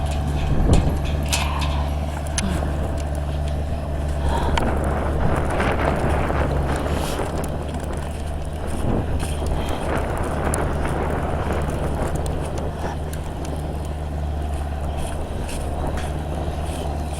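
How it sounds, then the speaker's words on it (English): A skid steer running outdoors as a blizzard approaches, a steady low engine rumble droning throughout, partly masked by wind buffeting the microphone. "we got the skid steer going in now"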